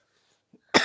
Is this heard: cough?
yes